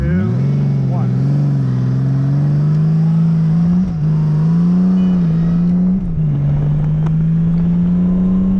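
A 1998 Honda Valkyrie motorcycle engine revs up and holds a steady, throaty drone, pitch rising at first then dipping briefly twice as it keeps accelerating.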